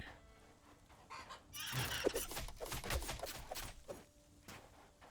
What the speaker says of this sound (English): It's a desert chicken.